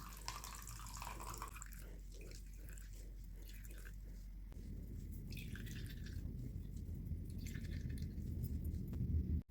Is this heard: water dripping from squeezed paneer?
yes